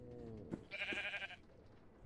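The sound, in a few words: sheep bleating in a video game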